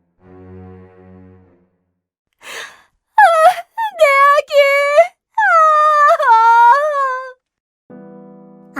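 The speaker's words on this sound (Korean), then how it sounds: "아기의 엄마가 울부짖으며 소리쳤어." A mother wails and cries out in a series of loud, drawn-out anguished moans, broken by short gaps and breaths, with a few softer tonal sounds at the start and end.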